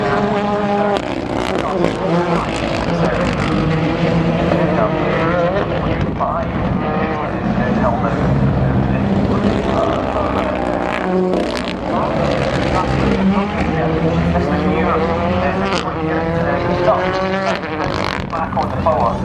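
A rally car powers downhill on a forest stage at the McRae Rally Challenge, engine roaring loud and close with shifting revs under a co-driver's continuous talk.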